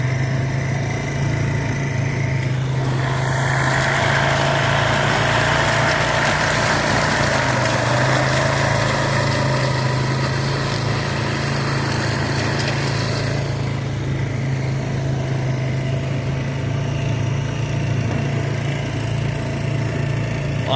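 A loud, steady engine drone of a tractor-pulled rough cut mower working a field, continuous throughout with a rougher, busier stretch in the middle.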